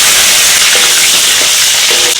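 Scallion, ginger, garlic and star anise fry in hot oil in a wok, making a loud, dense, close-up sizzle that hisses steadily and is broken by a few faint stirring scrapes.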